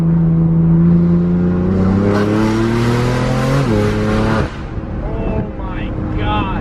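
BMW F82 M4 with an Armytrix Valvetronic exhaust in a tunnel: a loud, sustained engine drone that rises in pitch under acceleration, then a sharp drop and crackle as the revs fall, with excited voices over the top.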